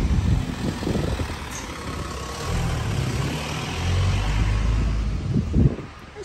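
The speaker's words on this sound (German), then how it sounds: "Hier, kommt ein Auto." A car approaches and rolls past on a warm street in Turkey, a low engine rumble swelling gradually to a close peak and then fading, with faint background noise and no talking.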